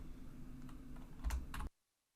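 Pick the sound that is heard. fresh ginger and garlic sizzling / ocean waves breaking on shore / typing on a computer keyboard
typing on a computer keyboard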